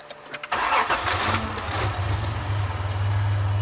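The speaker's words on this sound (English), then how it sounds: "Go ahead and start the car" A Nissan 200SX S12 with a turbocharged VG30ET V6 cranks briefly, fires and settles into a steady, rumbling idle, heard up close with no talking.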